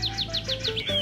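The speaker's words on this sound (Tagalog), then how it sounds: "Biboy, tignan mo yung mga birds, oh." Several birds chirp in a repeating series of short, bright calls, about five in a row within a second, fairly close, over a low steady hum, with no talking.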